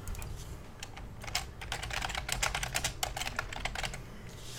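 Rapid clicking keystrokes on a computer keyboard, close and fairly loud, coming in quick irregular bursts over a low background hum.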